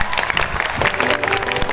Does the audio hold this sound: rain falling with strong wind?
no